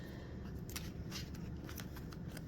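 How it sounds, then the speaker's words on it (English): Trionfi della Luna tarot cards riffle and slide against each other in a quiet room, a soft continuous papery shuffle with brief crisp bursts of card edges. "Let me shuffle and see"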